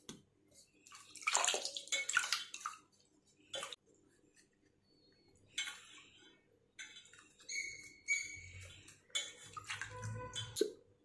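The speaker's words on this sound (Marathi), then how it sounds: "दोडका आपण अगोदर स्वच्छ पाण्याने धुवून घेणार आहोत।" Ridge gourd being washed under clean running water, with bursts of splashing and flowing water and a few clinks of a vessel, loud near the start and again toward the end, without speech.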